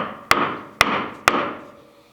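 A mallet drives a chisel into pine timber on a timber-framing job, three sharp, evenly spaced strikes, each ringing briefly before the next blow.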